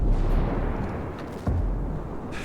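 Gunfire in Ghost Recon Breakpoint comes as a dense, rumbling barrage of low booms and bursts that stays steady and loud throughout, with one sharper blast partway through.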